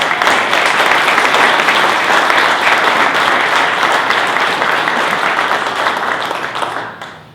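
Dense audience applause for Eric at a Startup Grind Buffalo event, loud and steady for about seven seconds before fading out at the end.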